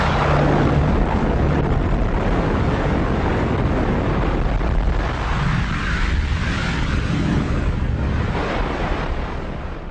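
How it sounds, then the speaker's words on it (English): A sound effect of the Big Bang explosion plays as a loud, sustained roaring rumble with a windy hiss, swelling and churning without pause, alone and with no speech. "Scientists call this explosion the Big Bang."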